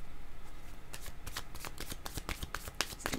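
Tarot cards are shuffled up close before one is drawn, a rapid run of crisp riffling flicks and slaps that starts after a short pause and keeps going steadily, with no speech.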